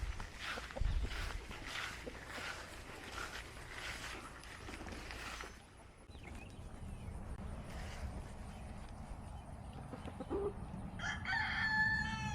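A rooster crows loudly several times with chickens clucking nearby, outdoors among the birds, with light footsteps and background movement.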